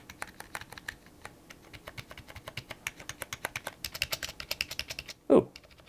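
Clacky keys on a Nerf gaming keyboard struck in a steady run of sharp, close clicks, speeding up toward the end, followed by one louder thump.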